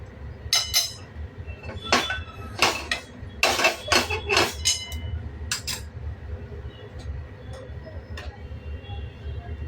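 Metal clinks and scrapes ring out in uneven bursts as a kadhai with a little oil is swirled over the stove, then the clatter thins to a quiet background hum.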